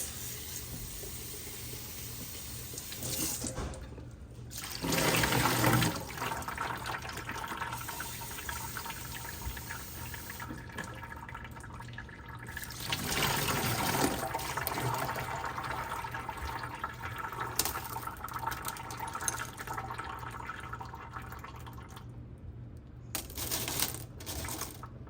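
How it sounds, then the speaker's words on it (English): Tiny beach rocks being rinsed in water, with running and sloshing water plus clinking and rattling of small stones, moderately loud and steady with brief quieter gaps. "Give them a little rinse."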